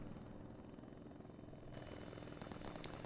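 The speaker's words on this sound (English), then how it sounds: "A friend just landed a chopper at Tower 1." A helicopter lands in the ArmA 3 multiplayer game, its steady rotor and engine drone continuous and fairly faint throughout, with a few light clicks layered on top near the end.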